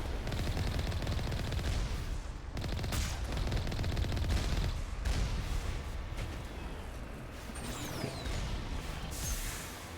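Rapid turret gunfire in Mass Effect rattles in dense, sustained bursts with heavy booming impacts, loud and close, with no talking over it.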